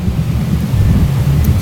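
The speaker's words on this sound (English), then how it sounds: "Stormy weather." A thunderstorm rolls continuously: heavy low rumbling thunder with rain noise and wind buffeting, loud and close for under two seconds, no voices.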